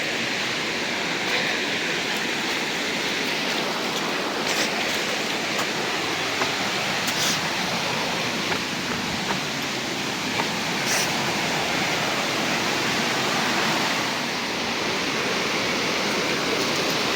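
A hidden forest waterfall near Kanakapura roars as a steady, broadband rush of falling water, loud and unbroken throughout, with no voices.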